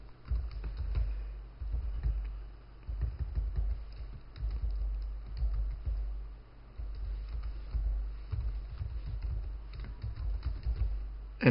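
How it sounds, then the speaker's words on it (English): Someone types on a computer keyboard while entering code, a close, fairly quiet run of irregular key clatter in uneven bursts with brief pauses, over low room hum. "Something wrong with my typing today."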